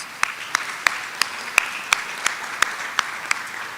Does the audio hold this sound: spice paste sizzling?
no